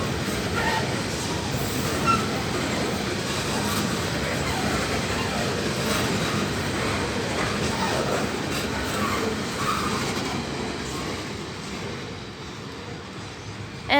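A freight train heading from Marulan Quarry to Port Kembla rumbles past close by, its continuous roar of wagons and wheel clatter holding steady before easing slightly at the end.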